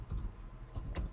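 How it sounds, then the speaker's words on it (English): Short burst of typing on a computer keyboard, a few quick close clicks in two small clusters, faint and with no voice. "I can start typing."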